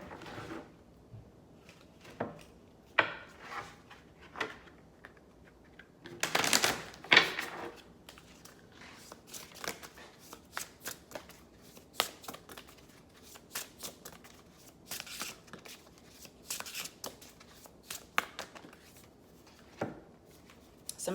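A deck of oracle cards is shuffled by hand, with many quick riffling flicks and light slaps close by, grouped in irregular bursts with a louder cluster near the start and a faint murmur beneath.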